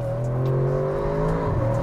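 A 2021 Audi RS6 engine roars steadily at high revs, its pitch climbing and shifting as the car accelerates hard, loud and close.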